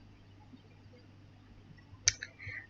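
A single computer mouse click, crisp and close, with a faint second tap just after, against a quiet background hum.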